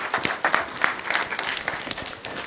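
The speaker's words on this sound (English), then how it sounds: "let's give him a round of applause." Scattered audience applause at an ICT summit, a loose, uneven patter of hands with distinct individual claps standing out, moderately loud and continuous throughout.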